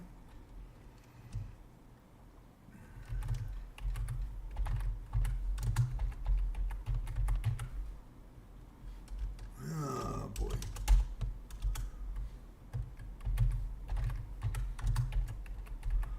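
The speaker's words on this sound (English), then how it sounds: "So I'll be typing here for a minute." Fingers typing on a computer keyboard during an online chess session, a steady stream of soft clicks running throughout at close range, with a brief spoken exclamation partway through.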